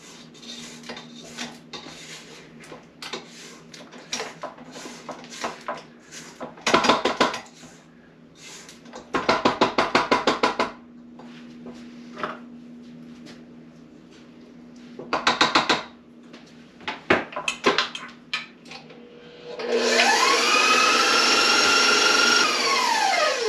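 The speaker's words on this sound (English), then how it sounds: "Just going to scrape the sides down." Spatula scraping the sides of a mixing bowl of gingerbread cookie dough, intermittent clattering scrapes in short bursts, followed near the end by a loud, steady whirr of an electric mixer.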